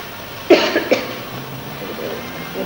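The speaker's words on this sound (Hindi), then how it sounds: "जोर से खांसी" Two sharp, loud coughs close together near the start, then a quiet room with faint background murmur.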